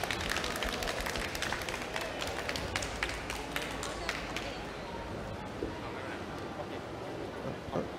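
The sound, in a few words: conference audience applause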